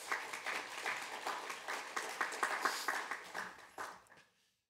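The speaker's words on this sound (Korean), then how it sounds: "여러분 먼저 박수 한번 하겠습니다" An audience at a Korean university chapel service claps together, a dense burst of applause that holds steady for several seconds before tapering off and fading into silence.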